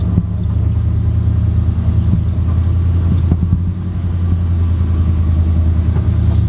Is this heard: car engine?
yes